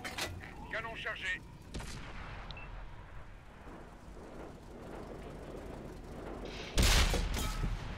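A tank cannon in World of Tanks fires with a loud, sharp boom and a rumbling tail, preceded by an earlier blast and some scattered sounds.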